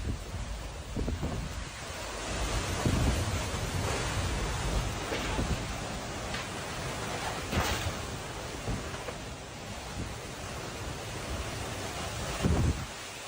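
An intense tornado thunderstorm in Illinois roars as a loud, steady rush of wind buffeting the microphone, with irregular gusts and thumps over about thirteen seconds.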